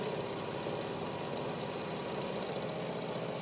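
A sewing machine runs steadily, stitching a seam, a close, even whirring hum with a rapid mechanical rhythm and no pauses, with no talk.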